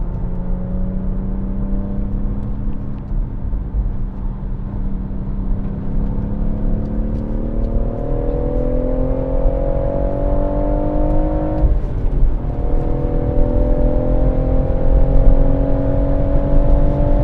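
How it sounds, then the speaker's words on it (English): A loud BMW M140i engine drones steadily with induction noise at Goodwood circuit, its pitch climbing as it accelerates, with a brief dip before rising again. No voices. "this is induction noise"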